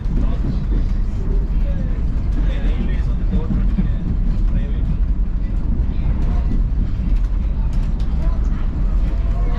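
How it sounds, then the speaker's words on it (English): A Strasburg Railway passenger train rolls along with a continuous low rumble and rattle heard from on board, while people talk over it. "You hear the train rolling?"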